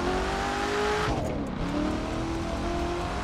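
A Corvette's engine drones steadily in The Crew 2, driven with a racing wheel, with a brief dip and shift in pitch as the gear changes, then a continuous hum resuming at close range.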